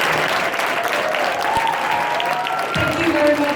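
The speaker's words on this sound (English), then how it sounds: "I would like you first of all to give a warm applause for Elliot" A fan convention panel audience gives warm, sustained applause, a dense wash of clapping, with some voices and cheering mixed in throughout.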